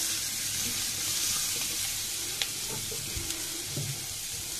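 A large onion tipped into hot oil for a Bengali yardlong bean and potato curry, giving a steady sizzle throughout with a few soft clinks and stirring taps near the end.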